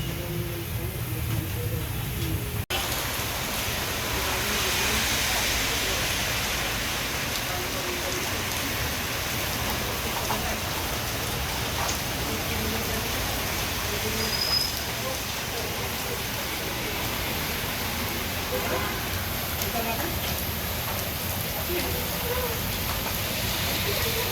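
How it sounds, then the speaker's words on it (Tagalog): Heavy rain pours steadily throughout, a dense, continuous hiss of water falling on surfaces, close and loud, with faint voices occasionally beneath it. "dahil nga sa malakas ang buhos ng ulan"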